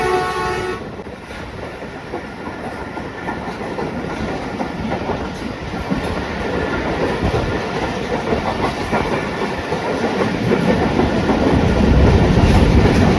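Pakistan Express train hauled by a ZCU 30 locomotive rumbles loudly past, a sustained roar of wheels and rail clatter that builds in intensity, with a horn blast near the start.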